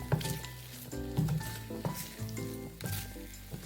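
Banana halwa cooking with ghee is stirred in a pan, producing a low sizzle and repeated squishy scraping strokes in a loose rhythm, close and fairly quiet, with no talking.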